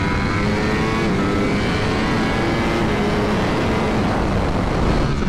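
A 200-horsepower Ducati motorcycle ridden on a race track at World Ducati Week, a loud, steady, close engine roar with a dense, rough high-speed tone and no voices.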